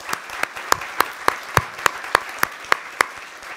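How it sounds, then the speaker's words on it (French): A single person claps in an even, steady rhythm at a Genopole gathering in honour of Pierre Tambourin and Véronique, about a dozen sharp, close claps with faint room noise between them. "de remercier et d'applaudir Pierre Tambourin et Véronique"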